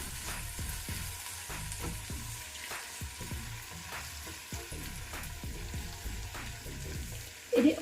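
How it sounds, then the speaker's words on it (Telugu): Chana dal and urad dal tempering fry in hot oil for gongura pulihora, giving a continuous close sizzle with repeated scraping stirs and a brief louder clatter at the end. "ఇది ఒక 1/2 సెకండ్ వరకు మనం వేయించుకుందాము."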